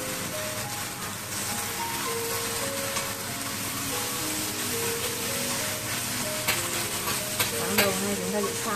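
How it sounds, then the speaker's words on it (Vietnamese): Ingredients for vegetarian pho being stir-fried briefly with fish sauce and seasoning, a dense, bright steady sizzle with light stirring scrapes running throughout at close range. "Vậy cần xào đảo sơ và để hơi thấm gia vị là được rồi."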